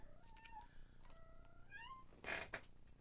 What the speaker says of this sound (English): constantly meowing when Scott leaves the house.